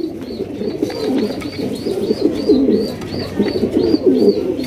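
Pigeons coo at a pigeon market in a rhythmic, close chorus of low throaty calls that repeat continuously, with faint higher chirps above.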